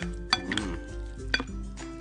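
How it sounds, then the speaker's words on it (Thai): A utensil clinks and scrapes against a bowl as spicy Korean chicken feet are tossed and mixed, with a few sharper knocks over a soft wet stirring sound, close and fairly quiet. "แนะนำว่าให้คลุกให้ทั่วเลยนะครับ"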